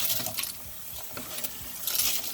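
Polished tumbled rocks are tipped out in a rattling pour, a quick clatter of many small stones knocking against each other and a hard surface, bunched into a few close bursts.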